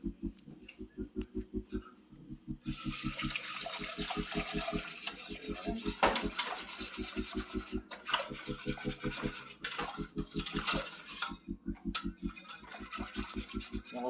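A whisk scraping and stirring milk into a flour and butter roux in a pan, a close, steady rhythmic rasping that runs throughout under a low humming tone.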